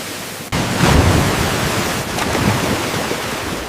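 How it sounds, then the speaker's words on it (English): Turbulent water rushing through a hydraulic flume washing strawberries in a jam factory, a loud steady broadband roar with surging swells, no talk. "Turbulent hydraulic flume washing."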